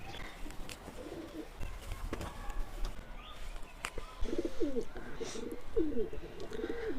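Pigeons in a loft coo in soft, repeated low phrases amid background noise, with a louder run of coos toward the end.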